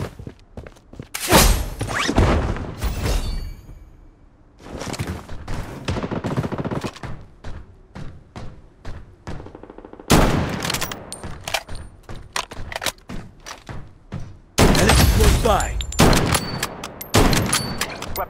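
AK-47 fire in the Blood Strike shooter game comes in loud sharp bursts and single shots, with thuds, footsteps and quieter gaps between the volleys.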